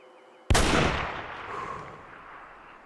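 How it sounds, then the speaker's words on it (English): A single loud hunting rifle shot fired through shooting sticks in Way of the Hunter, a sharp crack followed by a long rolling echo that fades slowly over open terrain. "And now we can shoot through the sticks."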